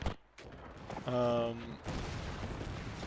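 Gunfire and explosions ring out in a WW1 battle video game, with a sharp bang at the start, a dull boom, then a blaring horn-like tone and continuing rumbling battle noise.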